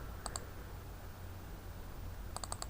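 A computer mouse double-clicks twice, crisp close pairs of clicks near the start and end over a steady low background hum.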